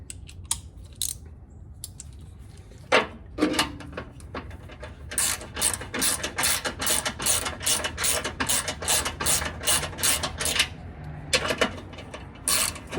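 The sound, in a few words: tightening Bronco exhaust bolts with a 13 mm ratchet wrench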